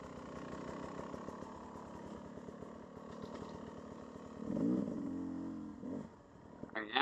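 A Beta dirt bike engine holds a steady mid-gear chug on a motocross sand track, then swells with a brief louder rev near the end.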